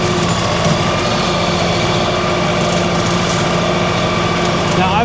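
A tractor engine runs steadily with a Lane Shark trail-clearing attachment, a continuous loud mechanical drone with no breaks, heard close throughout.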